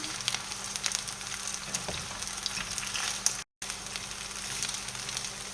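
A potato, gruyère and ham galette fries in a pan, giving a soft, continuous sizzle and crackle heard up close, with one brief dropout partway through.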